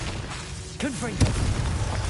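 A Confringo blasting spell goes off in a wizard video game: a whooshing, swooping cast builds into a sharp boom, followed by a rumbling tail of debris.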